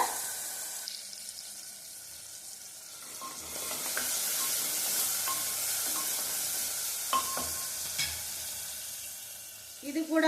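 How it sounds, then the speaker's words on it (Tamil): Steady sizzling of onions and tomatoes frying in oil, with occasional stirring clinks and scrapes close by; no talking. "தக்காளி எண்ணெயிலே நல்லா வதங்கணும்"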